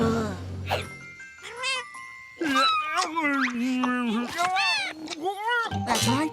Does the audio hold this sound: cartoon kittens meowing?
yes